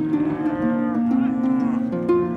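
A cow lets out a long, loud, drawn-out moo close by during a spring cattle drive on a trail, its pitch wavering and rising near the end.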